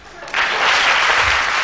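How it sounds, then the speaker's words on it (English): Brief burst of audience applause breaks out at an engineering college talk in Namakkal, a dense steady wash of clapping starting suddenly and holding for over a second. "We shall clap, I think."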